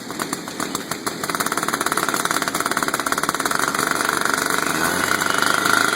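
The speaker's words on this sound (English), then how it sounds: "Move on to my rotary saw." A gas-powered rotary saw engine sputters at low throttle, then climbs to a loud, rapid, buzzing full-throttle drone that holds steady up close, with no talking.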